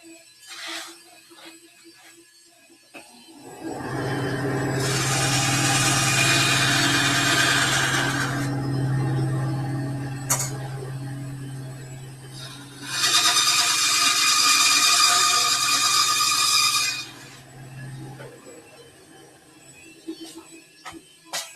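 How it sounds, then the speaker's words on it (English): A Dremel rotary tool whines in a workshop during a District 9 rifle greeble prop build, two sustained bursts of high-pitched grinding a few seconds apart, fairly close and loud, with quiet shop noise between them. "You can hear Will dremeling over there"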